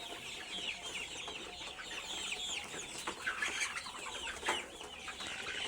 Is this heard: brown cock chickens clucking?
yes